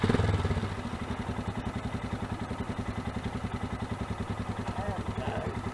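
A Suzuki Burgman 650 scooter engine starts with a brief loud burst, then settles into a steady, close, rhythmic idle pulse that runs to the end.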